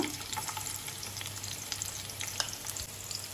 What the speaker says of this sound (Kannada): ಎಣ್ಣೆ ಬಿಸಿ ಆಗ್ತಿದ್ದ ಹಾಗೆ ಬೆಳ್ಳುಳ್ಳಿಯನ್ನು ಹಾಕ್ಕೊಳ್ತೇನೆ ಸ್ವಲ್ಪ